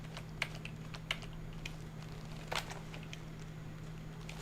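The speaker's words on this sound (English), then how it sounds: "I'm trying to do this with keyboard shortcuts" Keyboard shortcuts tapped out on a computer keyboard, a few sparse, crisp keystrokes spaced irregularly over a steady low electrical hum, nearby and fairly quiet.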